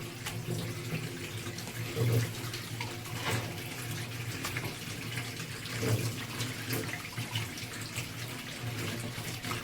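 A kitchen tap runs steadily while fish is washed and cleaned beneath it. The flow holds constant, with a few louder splashes and surges as hands work under the stream.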